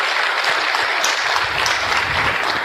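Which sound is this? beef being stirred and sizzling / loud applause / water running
loud applause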